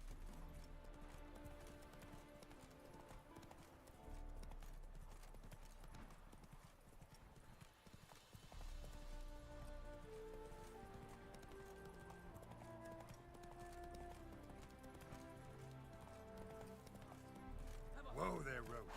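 Roach, a horse in a video game, gallops with rapid, steady clip-clopping hooves under a backing music bed. A brief whinny-like sound comes near the end.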